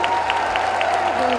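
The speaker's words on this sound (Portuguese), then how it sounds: "Então vamos dar uma salva de palmas para todas as pessoas que construíram o nosso banco nos últimos anos." Guests at a BRB bank staff celebration applaud, a short stretch of steady crowd clapping with a faint tonal hum running underneath.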